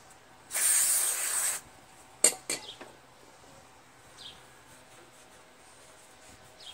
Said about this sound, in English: So I'm just going to blow out that carburetor with some carb cleaner.